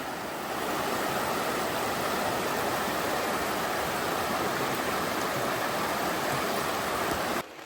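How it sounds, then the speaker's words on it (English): Continuous rushing water of the Rubicon River flows close by, a dense, steady broadband wash without pause, with no voices. "just the sound of that water"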